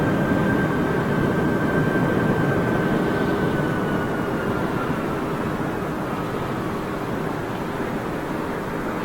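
A Boeing 777-300ER with GE90 jet engines runs at London Heathrow Airport, producing a loud, continuous broadband roar that holds steady and eases only slightly toward the end.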